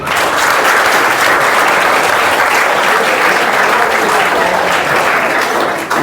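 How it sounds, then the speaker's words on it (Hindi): A large crowd at a village general knowledge competition claps loudly and steadily, a dense wash of applause that never lets up and fills the whole space. "इसके लिए बहुत ज़ोरदार तालियां बजाओ भाई"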